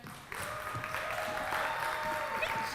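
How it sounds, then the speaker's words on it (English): Audience applause fills a celebration event for the 50th episode of a show called Challenge Accepted, dense steady clapping building after a brief quieter start and holding loud throughout. "Thank you for that applause."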